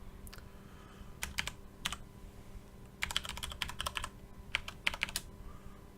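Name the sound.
typing login credentials on a computer keyboard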